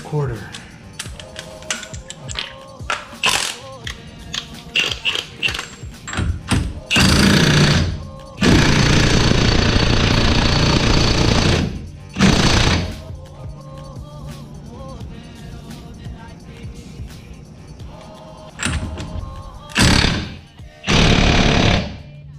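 An impact wrench hammers a 1.25-inch axle nut onto a Honda Civic EG hub, loud close bursts of rattling impacts with long sustained runs, interleaved with clicks and workshop handling noises.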